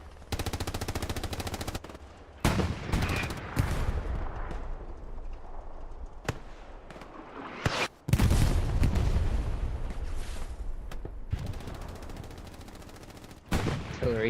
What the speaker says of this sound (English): Artillery definitely targeting the right spot here.